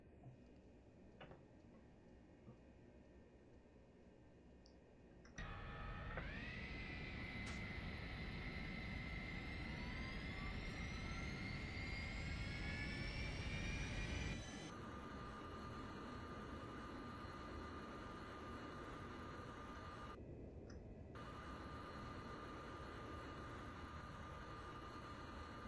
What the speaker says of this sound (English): APU start